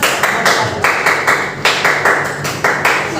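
A classroom of students doing the Indonesian scout clap (tepuk pramuka), a loud group of hands striking in rhythmic bursts, with several sharp clusters of claps repeating across the moment and no talk over them.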